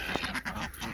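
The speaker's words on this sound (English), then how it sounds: "And I have a lot of these Cayuga ducks, these black ducks." Ducks on a farm, including black Cayuga, Pekin and Muscovy ducks, with a short burst of close, loud quacking and honking calls.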